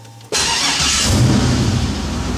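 A car fitted with Megasquirt fuel injection cranks and fires abruptly, then settles into a steady, fairly loud idle with a low rumbling throb close by.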